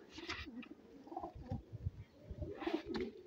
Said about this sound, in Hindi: ये कबूतरी है जी भैया मेरी